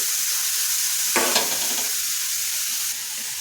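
Vegetable cutlet mixture fries in a pan with a steady, soft sizzle, broken midway by a brief scraping stir as it is moved around.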